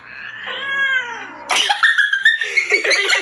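A cat meows in a drawn-out, wavering cry at first, followed by a burst of shorter, higher, strained yowls close to the microphone, with no talk.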